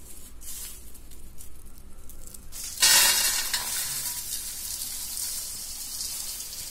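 Crisp, rustling stirring as a crunchy Tamil mixture snack of fried savoury bits is tossed in a wide vessel, quiet at first and then louder and continuous, with a dry patter.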